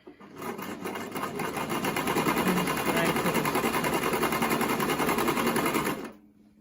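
A Brother XL 5600 sewing machine runs a wide zigzag stitch in one steady, close, whirring burst of rapid needle clatter lasting several seconds, then stops.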